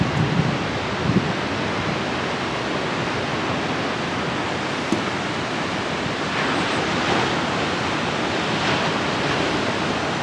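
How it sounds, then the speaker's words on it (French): Ocean waves breaking on a beach where surfers are out, a continuous loud broadband roar of surf with soft swells rising and falling, steady throughout and without voices. "pour vous faire profiter de ces petits bruits de vagues"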